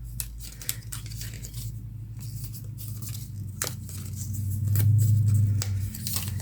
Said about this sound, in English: I'm just going to cut some of it, because I don't want it too thick